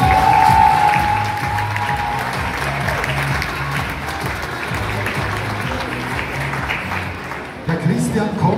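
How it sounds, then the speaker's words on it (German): An outdoor crowd in a park applauds a singer stepping up at a singing competition event. Loud, sustained clapping with a murmur of voices beneath, and a brief tone at the start. "Applaus"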